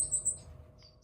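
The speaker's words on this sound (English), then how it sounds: "I do have a second pair of quail finches in the aviary at the moment," Quail finches in an aviary giving a few thin, high chirps, quiet and close, followed by a fainter call against a soft background hum.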